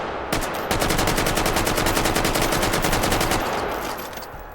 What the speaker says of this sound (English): That was the AK-5, everybody.